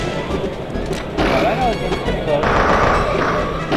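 A Samus charge shot fires in Super Smash Bros, sharp blasts and impacts from the match over a busy game-audio bed, with a commentator's voice running through.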